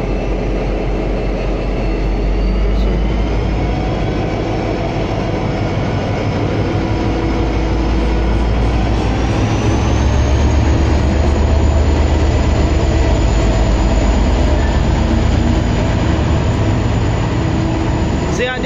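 Train N452 moving slowly into the siding at Bacchus Marsh station, with a loud, continuous rumble and rolling clatter that holds steady and builds slightly partway through.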